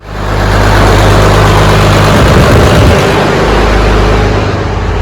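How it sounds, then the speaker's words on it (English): A 12-valve diesel engine idles slightly high after a governor spring install. It makes a loud, steady low rumble with a constant throb that runs without a break and no voices. "It's idling a little high right now."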